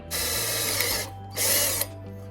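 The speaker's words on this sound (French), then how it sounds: "on va percer ça et on va voir si ça correspond" Power drill boring holes for a combined mirror-and-shelf project, two loud whirring bursts of about a second each separated by a short pause, with a low motor hum continuing underneath.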